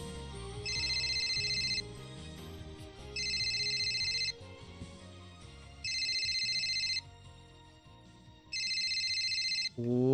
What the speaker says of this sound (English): Oh, am I hearing ringing?